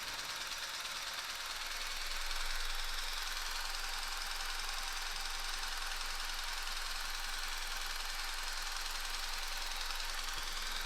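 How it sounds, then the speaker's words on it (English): An electric motor drives a vibration test rig at an altered speed, giving a steady, even mechanical hum and rush that holds at a constant level with no voices. "I will change also for this demonstration a little bit the frequency or the speed of the electrical motor."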